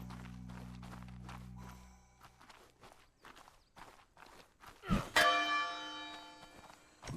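A bell rings in Ark Survival Ascended, a bright ringing strike with a sustained shimmering decay arriving near the end, after a stretch of footsteps.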